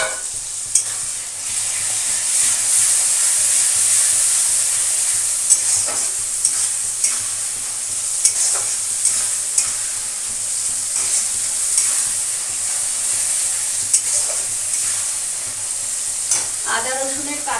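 Ginger and garlic paste fries in a pan with browned onions, a loud steady sizzle broken by repeated stirring scrapes and clinks of a spatula.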